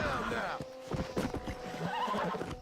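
Horse whinnies loudly in Red Dead Redemption, the in-game neigh sharp and close, followed by a scattering of hoofbeats, with someone talking over parts of it.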